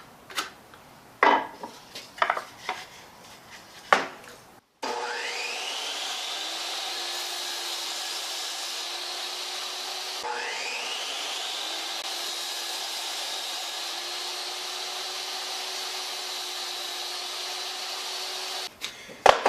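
A power saw cuts through a wooden 2x4, a sustained whining buzz that runs steadily in two long passes, each starting with a rising whir, after a few sharp knocks and clatters of handling the lumber; no talking.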